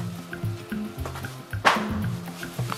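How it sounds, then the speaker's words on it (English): Mixed vegetables tipped into a simmering stew, producing soft sizzling, bubbling and stirring with a brief louder splash and clatter midway, close by and without talk. "I'm going to add my mixed vegetables to my stew, and then my couscous"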